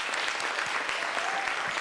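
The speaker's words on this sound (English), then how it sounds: "I think it's appropriate to give our 4 candidates who are running for Santa Clara Unified School District a round of applause" Steady applause from an audience at an evening candidate forum for school district board candidates, a dense, even stretch of many people clapping with no talking.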